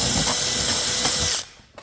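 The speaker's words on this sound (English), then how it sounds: "So we're going to ream it out with a drill bit" A power drill whirs loudly and continuously for over a second, reaming out a brake part with a drill bit, then stops abruptly, followed by a faint click.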